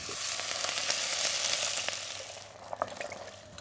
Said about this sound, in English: so it's time to get in there with some stock